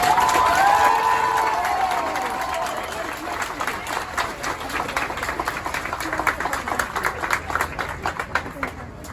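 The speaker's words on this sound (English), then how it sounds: "please join me in a big round of applause for the drill instructors and families of Delta Company" A large outdoor crowd applauds and cheers for the drill instructors and families at a US Marine Corps graduation ceremony, with a brief whistle-like tone at first, then continuous clapping and shouts building into a busy, textured roar.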